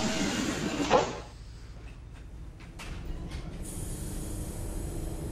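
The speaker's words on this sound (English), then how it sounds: "Please stand clear of the doors as the train is ready to depart." Palm Jumeirah monorail train departing a station, with a loud clunk near the start, then a steady low rolling rumble and rising mechanical whine as the train pulls away.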